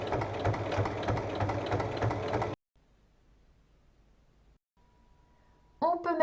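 A sewing machine topstitches alongside a zipper on a small fabric pouch, a rapid mechanical needle chatter running steadily for a couple of seconds, stopping to near silence, then briefly restarting at the end.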